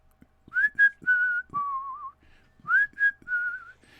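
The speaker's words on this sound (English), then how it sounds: "The whistle." A human whistle, a tune of sliding and held notes in two phrases with brief pauses between, clear and close.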